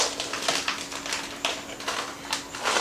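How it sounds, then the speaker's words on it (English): A knife cuts meat into pieces for birria, producing quiet, irregular tapping and clicking strokes against a board, fairly close and steady for a few seconds, with no voices. "So I'm going to cut up my meat into"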